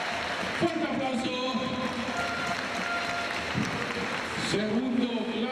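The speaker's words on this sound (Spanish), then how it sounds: "Fuerte aplauso." Crowd applause at a junior men's basketball trophy ceremony in Asturias, a continuous clapping wash under which a voice talks, with a few louder shouts rising from the crowd.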